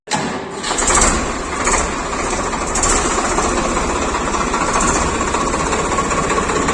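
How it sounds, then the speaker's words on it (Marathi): A Swaraj 855 diesel tractor engine starts and runs with a loud, steady chugging rumble close by, continuous throughout without any voices. "मग सर्वांनी एका मागोमाग ट्रॅक्टर चालून बघितला"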